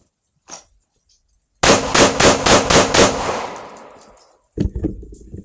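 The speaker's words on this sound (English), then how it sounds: "We'll do pelvic girdle shots, 6 rounds." Six rapid pistol shots from a Smith & Wesson M&P 2.0 fired close and loud in a quick string during shooting drills, with sharp cracks and ringing decay.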